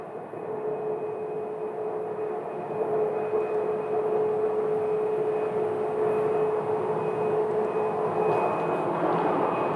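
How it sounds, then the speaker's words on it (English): A Southwest Airlines airliner departing Phoenix Sky Harbor airport, a steady distant jet engine hum with a faint high whine, holding even and slightly swelling over several seconds, with no voices. "We have another Southwest departure. I see it pulling out of the ramp area"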